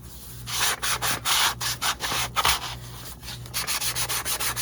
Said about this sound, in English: I'm just sanding them down.